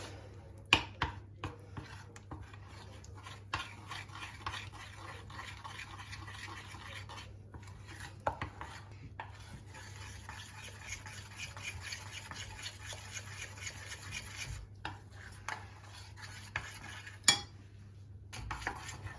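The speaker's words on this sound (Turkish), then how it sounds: "Şöyle ganaj haline gelen çikolatamı hamuruma ilave ediyorum." A spatula folds melted chocolate ganache into brownie batter in a bowl, giving soft, sticky squelching and scraping strokes with sharper clinks against the bowl, close and quiet, with no talk.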